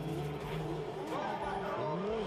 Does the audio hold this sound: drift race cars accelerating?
yes